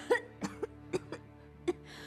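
A woman coughs in a domestic setting, about six short dry coughs spaced irregularly over two seconds, close and fairly loud, with faint background hum.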